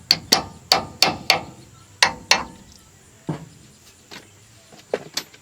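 A hammer taps metal in quick sharp strikes, a few in a row, then lighter, more spaced taps, on a wheel bearing part of a 1987 GMC S-15.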